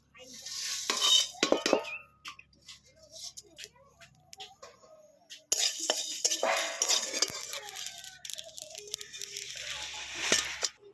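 Dried chillies, peppercorns, cumin and garam masala dry-roasted in a pan, heard as intermittent close clinks and rattles of a utensil against metal, with quiet stretches between and faint voices in the background.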